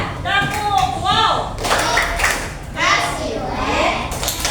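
Children in a classroom doing a clapping game, with bursts of group claps and thumps mixed with lively children's voices and chanting.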